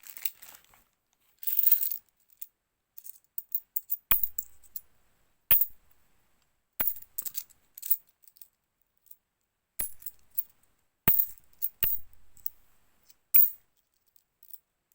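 10p coins emptied from a bag land in a run of sharp metallic clinks and jingles, scattered bursts with short quiet gaps, close and fairly loud with no talking.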